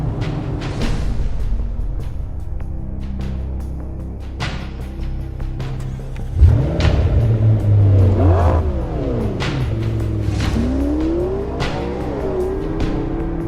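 A McLaren 650S laps Willow Springs racetrack on aggressive Pirelli tires, its engine revving up and down through gear changes with sharp shifts, loud and close, and a climbing, swooping howl as it accelerates.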